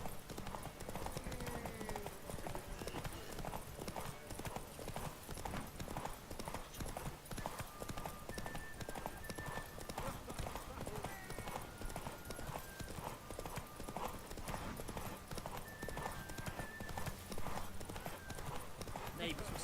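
Roach, Geralt's horse in The Witcher 3, galloping in a steady, rapid hoofbeat rhythm during the Novigrad derby race, with game music and a voice talking over it throughout.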